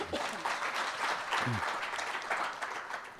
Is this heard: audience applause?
yes